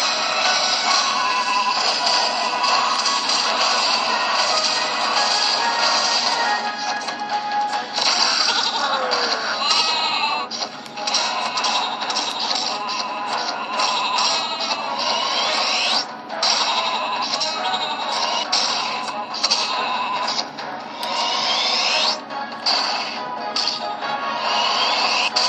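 Sheep in the sheep room of Skylanders Giants on the 3DS bleat over dense, continuous game sound effects and music that run loudly and steadily for the whole stretch.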